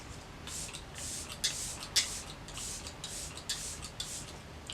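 Kat Von D Lock It setting spray hisses out in a series of short, soft pumped bursts, close and fairly quiet, with no talking.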